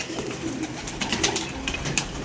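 Pigeons coo repeatedly at close range in a loft of show birds, soft throaty calls overlapping with rustling and fluttering throughout, with no talking.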